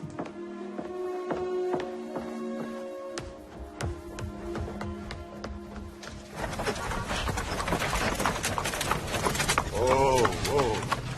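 Horse hooves clip-clop in a regular rhythm at close range, with music playing throughout and growing louder and busier partway through; voices are heard in the scene.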